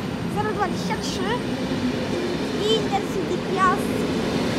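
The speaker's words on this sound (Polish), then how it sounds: "Intercity Piast z Krakowa do Gdyni odjeżdża bez opóźnienia." An Intercity Piast train hauled by an EP09 electric locomotive pulling out of Gliwice station, a steady rumbling roll with occasional high squeals and chirps, people talking in the background.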